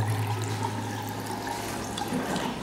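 Steady water running from a tap in a university faculty restroom, a continuous even hiss with a low hum underneath, near and moderately loud, no talking.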